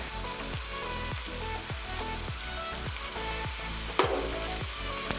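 Finely chopped onion fries in butter with a steady, close sizzle and crackle, broken by repeated stirring scrapes in a regular rhythm and one sharper clatter near the end.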